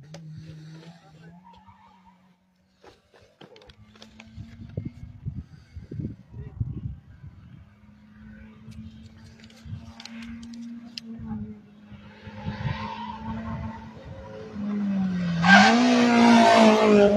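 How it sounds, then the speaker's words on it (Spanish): A competition car on a Santiago del Estero rally stage approaches from a distance, its engine droning faintly at first and growing to a loud roar near the end, with scattered crowd and ambient sounds around. "Estamos escuchando vehículo en competencia, algo se aproxima, rugir de motores"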